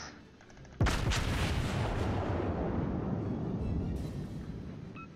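A single loud, deep boom from a warship's guns in World of Warships, aboard the tier III battleship South Carolina, followed by a long rumbling roar that slowly fades with no speech over it.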